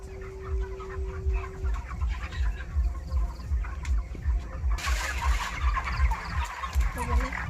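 Chickens on a village poultry farm crowd around freshly scattered feed, their soft, overlapping clucks continuing steadily over a low, rumbling background hum.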